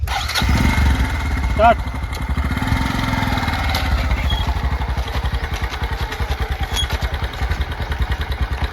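A motorcycle engine catches after a thud and settles into a loud, rhythmic idle that chugs steadily, with voices talking briefly over it.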